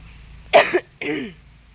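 A young child coughs twice in quick succession, close and fairly loud, the harsh throaty bursts standing alone in a quiet room.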